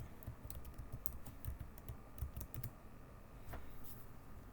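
Keys clatter on a computer keyboard as a password is typed into a Steam Deck terminal, a quick run of soft clicks with short pauses, close and moderately quiet against light room noise.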